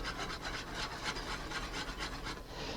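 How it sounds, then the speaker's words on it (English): Sugar being whisked slowly in a pan while it melts toward caramel for a peach tatin; a steady scraping rasp continues throughout at close range with faint rhythmic strokes. "Keep whisking slowly, like that"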